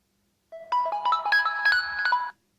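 A short melodic ringtone-like sound sample plays through the loudspeaker of an HTC 10 phone, a bright sequence of quick tones lasting under two seconds, fairly loud and thin, with silence before and after.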